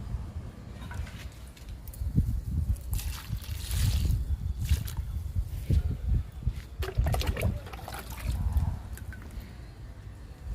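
Cooling liquid poured onto two pomegranate plants in a summer garden, a steady trickle and slosh of water hitting soil and leaves, close and fairly loud, with rustling handling noises and brief bumps.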